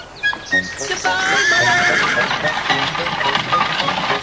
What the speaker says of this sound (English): Off went the horse and cart, with Tom tucked safely in the horse's ear.